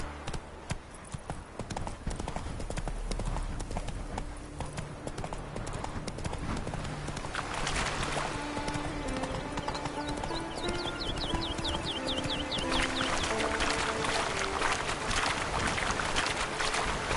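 The horse Roach's hooves clip-clop steadily on the ground in The Witcher 3: Wild Hunt, a close, even trotting rhythm over ambient game music and background sound.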